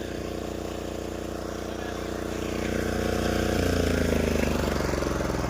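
A 13 HP power weeder runs in a field with a steady droning engine note that climbs in pitch and loudness partway through as it revs up.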